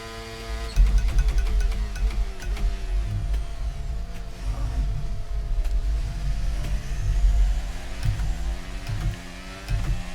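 A Formula 1 car engine in the racing game F1 23 at Monza accelerates hard down a straight. The loud, high-revving whine climbs in pitch through quick gear shifts and continues alone without talk.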